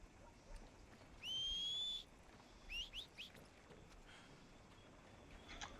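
A sharp, sustained whistle for a horse in Red Dead Redemption 2 rings out, followed by a few shorter rising whistle notes, fairly faint over a quiet outdoor background.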